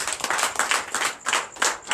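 A church congregation claps together in acclamation during a Friday night deliverance and prophecy service, a dense, steady wash of many hands with rhythmic surges, loud and close throughout.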